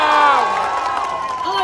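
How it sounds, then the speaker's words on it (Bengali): Live crowd at a Bengali concert performance at a festival and book fair, cheering and shouting in a brief, loud, continuous burst with voices whooping over one another. "নিজেদের জন্য হাততালি হয়ে যাক।"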